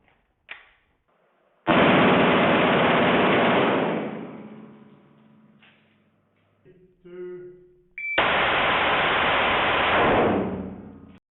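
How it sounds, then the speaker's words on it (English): A handgun fitted with an illegal Glock switch fires fully automatic in body cam footage, with two long, loud bursts of rapid fire separated by a quieter gap. "You can hear that rapid fire in the body cam footage."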